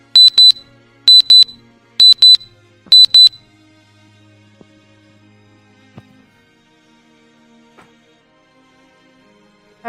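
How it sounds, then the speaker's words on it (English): Braum's wristwatch alarm sounds four quick paired bursts of shrill, high beeps in steady rhythm, loud and close, then stops, leaving near silence with a few faint clicks and knocks. "then you hear Braum's watch make this noise"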